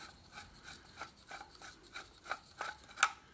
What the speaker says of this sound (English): So first, let's take it off the Uzi.